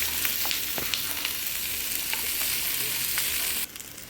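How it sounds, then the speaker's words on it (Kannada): Food fries in a pan for butter chicken, giving a steady close sizzle with light stirring clicks, cut to a quieter, softer sizzle near the end. "ನೋಡಿ, ಫ್ರೈ ಮಾಡ್ತಾ ಇದ್ದೀನಿ ನಾನು."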